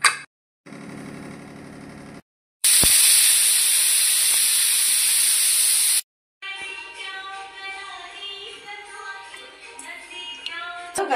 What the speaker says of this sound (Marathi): 1 चमचा मसाला घालून आता हे शिजवते, 2 शिट्या काढते